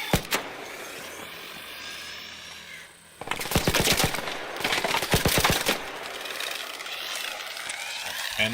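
Gun from the Arc Raiders video game firing in rapid bursts, a string of sharp close shots packed into a couple of seconds amid background game ambience.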